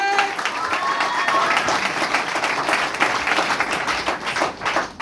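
An audience gives a round of applause for a guru at a Safeshop business motivational event; loud, continuous clapping runs for several seconds with voices mixed in underneath.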